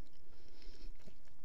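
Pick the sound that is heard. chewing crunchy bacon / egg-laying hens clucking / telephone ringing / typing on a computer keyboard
chewing crunchy bacon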